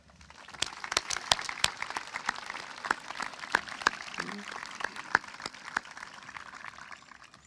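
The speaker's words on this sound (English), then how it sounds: "give them a round of applause" A commencement crowd at the 2017 Peters Township High School graduation applauds the graduates' families, a dense hiss of many hands clapping from a distance, with a few sharper claps standing out before it fades.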